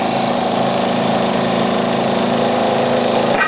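A grinding tool runs on a lighthouse model, holding a loud, steady whine with a constant pitch for several seconds before cutting off near the end, with no talk.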